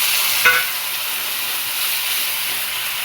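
Onions frying in a wok, soon joined by flat bean mash: a steady close sizzle and hiss throughout, with one brief scrape or clatter near the start and no talking.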